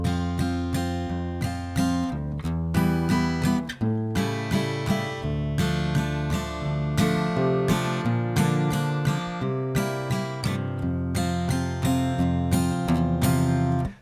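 Guitar strumming the chords of a song, a steady rhythm of bright strummed chords with brief pauses at the chord changes, played close and clear with no voices.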